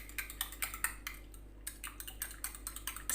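Egg yolk, garlic and milk are stirred in a bowl with quick, light, irregular clicks and taps of a utensil against the bowl, faint and close, with no talking.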